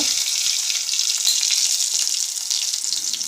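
Curry leaves and garlic fry in hot oil in a pan for a bitter gourd dish, a bright continuous hiss and sizzle holding steady and close with no talk.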